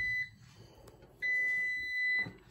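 Two long electronic beeps from an air fryer timer, a steady high tone sounding once, pausing about a second, then sounding again, clear and close.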